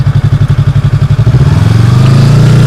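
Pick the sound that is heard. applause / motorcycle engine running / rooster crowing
motorcycle engine running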